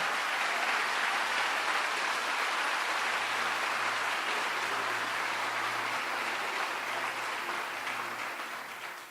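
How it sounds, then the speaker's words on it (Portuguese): A church congregation applauds during a worship service, a continuous wash of many hands clapping at a steady, even level for about nine seconds, with a low hum underneath and no talking. "Vai dar um aplauso mesmo ao Senhor."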